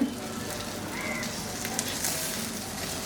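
Eggplant kebab patties sizzle and fry steadily in a pan, a close, continuous crackling hiss with small pops, no talking over it.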